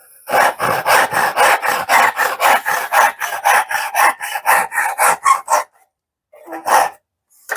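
A Jackson dovetail saw cuts wood in about twenty rapid, loud, rasping strokes at a fast even rhythm. It stops briefly, then makes a few final strokes, with no voices.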